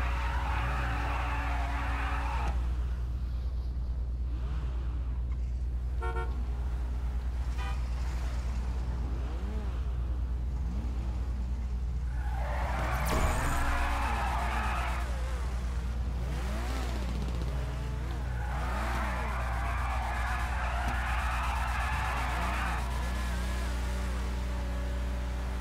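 A car revving and accelerating, its engine pitch rising and falling in repeated sweeps, with bursts of rougher broadband noise, moderately distant and steady in level.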